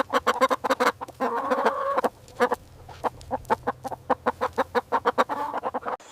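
A chicken clucks in a quick series of short, loud, repeated pulses, with a few brief pauses and a low steady hum underneath.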